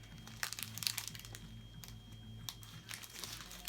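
Scissors snip and crinkle through a thin plastic sachet of diamond painting beads, giving sharp little cuts and rustles at close range, quiet and irregular over a low steady hum.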